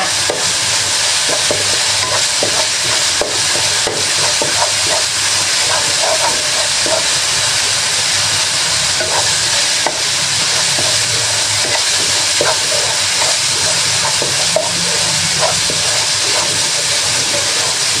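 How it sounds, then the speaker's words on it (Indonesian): Vegetables sauté in about four tablespoons of oil loudly in a hot frying pan with a constant sizzling hiss, broken by the scrape and clack of stirring. "ini tumis sampai wangi ya"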